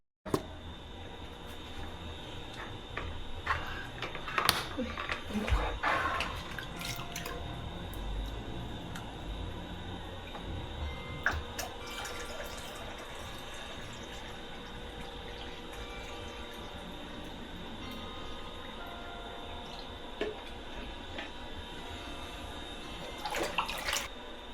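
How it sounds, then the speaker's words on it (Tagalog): Fresh well water pours steadily into a new aquarium, a soft continuous trickle and splash with faint bubbling that runs the whole time at low volume, with no voices. "So guys, lalagyan natin ng water."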